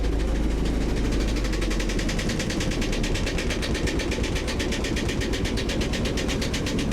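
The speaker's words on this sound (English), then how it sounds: "just keep the engine ticking over" An engine ticking over, a steady rapid mechanical pulsing drone that holds at an even level throughout, with no talking.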